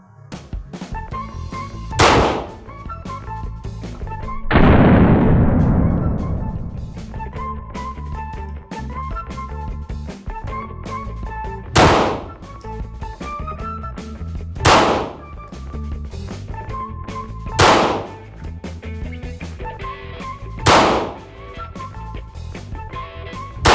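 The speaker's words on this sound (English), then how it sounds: "That was a bad shot. I jerked the hell out of the gun." Taurus G2C pistol fired in several separate loud gunshots spaced a few seconds apart, each a sharp crack with a ringing tail, one followed by a longer rumbling echo; no talking.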